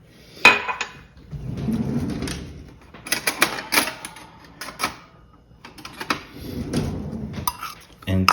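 Melted butter and almond flour stirred together in a bowl for a cheesecake cupcake base, with scraping and clinking of a utensil against the bowl in bursts under talk.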